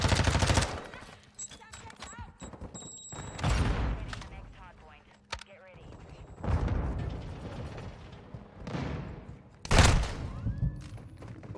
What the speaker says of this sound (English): Bro, why did everybody just start shooting?